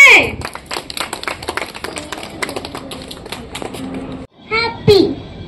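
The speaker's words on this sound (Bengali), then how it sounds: "আরিয়ানের জন্য জোরে একটা হাততালি হয়ে যাক।" People at a New Year's Day picnic clap for a child, a crisp patter of uneven handclaps that fades, stops briefly, then returns while a voice speaks over it.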